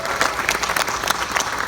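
An audience at a congressional election victory watch party claps in a short, even burst of applause, moderately loud and without voices.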